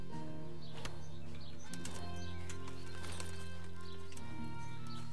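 Horse in Kingdom Come: Deliverance bucking and thrashing about, heard as irregular hoof clatter and scuffling over game music and ambient birdsong, with no talk.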